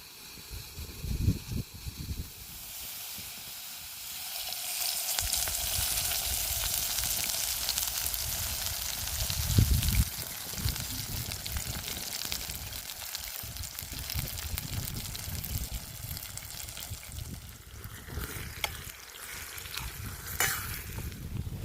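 Spices sizzle and fry in a pan set on an outdoor wood-fired stove, a loud continuous hiss with stirring scrapes, steady through most of the stretch and rising in bursts near the end, no talking.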